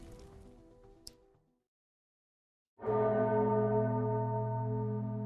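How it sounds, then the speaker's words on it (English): A single bell in an Arknights event story sounds loud and close after a short silence, ringing with rich sustained overtones that carry to the end. Other sound trails away before the pause. "In this final moment, Anduin hears a bell. Clear as day."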